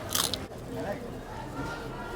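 Bite into the well-baked, crispy crust edge of a gourmet pizza: a sharp crunch at the start, then softer chewing under steady background noise and voices.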